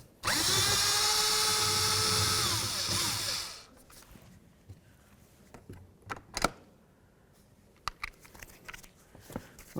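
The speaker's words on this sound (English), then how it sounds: "I'm going to use a T27 or a Torx Bit number 27. I'm going to remove these bolts." A power drill fitted with a T27 Torx bit spins out bolts on the door of a Ford Edge, whirring loud and close for a few seconds, then gives way to scattered clicks, knocks and handling noises.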